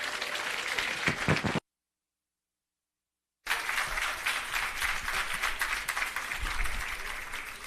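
An audience applauds a performer at the commissioning of an irrigation system and launch of an agro park, with dense, sustained clapping from a crowd. A short gap interrupts it before the applause resumes at similar strength.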